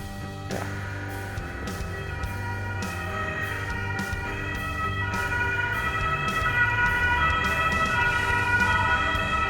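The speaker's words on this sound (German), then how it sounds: "Warten wir mal kurz das Martinshorn ab." An emergency vehicle siren wails steadily with a harmonic tone at Mainz railway station, nearby and fairly loud, accompanied by a regular rhythmic clicking throughout.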